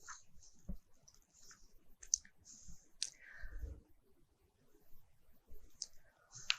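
Sharp, isolated computer mouse clicks at a desk while structural analysis software is operated, a few distinct quiet clicks spaced irregularly over low background noise.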